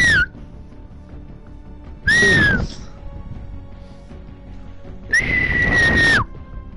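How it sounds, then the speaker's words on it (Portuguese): Three loud, sharp whistled notes are heard close up, two short ones and then a longer held tone, with gaps of quiet in between. Faint game sound sits underneath and nobody speaks. "Dá pra ouvir o assobiando."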